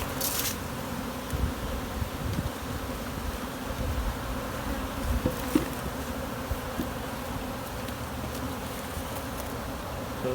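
Many honeybees buzz around a hive, a dense, continuous drone close by with individual bees flying past and shifting in pitch.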